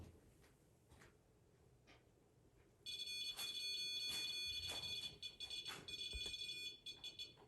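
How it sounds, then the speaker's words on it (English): In an old jail at night, after a few quiet seconds, an electronic device starts beeping insistently, a shrill, fast stream of high-pitched tones that stays loud until the end. "I asked if it can beep once, and it beeped once."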